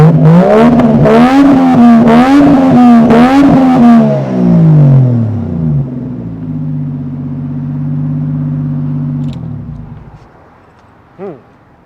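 A Toyota Chaser JZX100 Tourer V with an aftermarket muffler revs hard several times in quick succession, rising and falling loudly, then settles into a steady idle before cutting off; voices talk over the opening revs.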